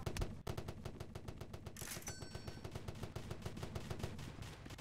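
Rapid bursts of video game gunfire, a dense automatic rattle with single shots mixed in, fairly close and loud and running through most of the stretch with no talk over it.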